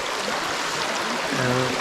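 Water from a stream flowing along a stone trail toward a waterfall in the Rangamati hills, Bangladesh, a steady broadband rush with no pauses, with a brief low murmur of a voice in the background near the end.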